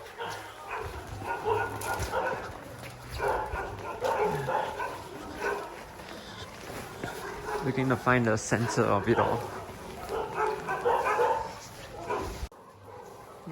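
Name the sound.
dogs barking in the street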